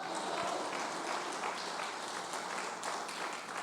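A church congregation applauds loudly and steadily at a worship service, dense continuous clapping filling the whole stretch with no speech over it.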